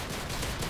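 Gunfire in the Modern Warfare 3 video game, including a pistol, comes as a dense, steady burst of shots that fills the whole moment with no voice over it.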